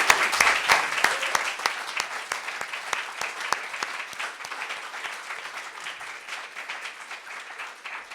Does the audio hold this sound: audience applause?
yes